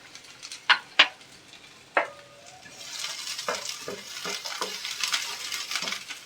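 Garlic and ginger pieces dropped into a hot pan, a few sharp metallic clinks first, then a rising hiss of frying with scattered spoon taps, close and with no talking.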